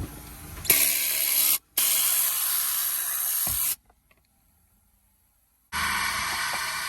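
A Tornador air cleaning tool blasts inside a Ford Expedition in long, loud, steady hissing bursts, with a short break, then a few seconds of silence before the blast resumes, close by and with no talk.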